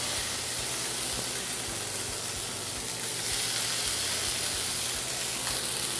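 Chicken pancake batter with green corn sizzles steadily in an oiled frying pan, a continuous close hiss and crackle of frying with no talking.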